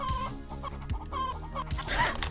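Chicken clucking in the Roblox Arsenal game, several short close clucks in a choppy rhythm, loud and clear with no talk over them.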